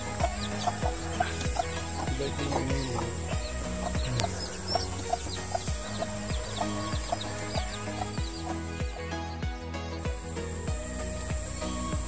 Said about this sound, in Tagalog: Tatawagin niya na yung mga sisiw niyan mamaya.